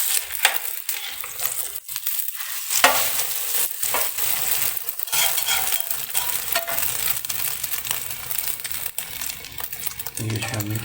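Shami tikki sizzle in a hot pan while being flipped, a steady crackling fry broken by repeated scraping and clinking of a spatula against the pan.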